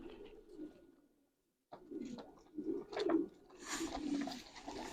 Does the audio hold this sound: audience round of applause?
no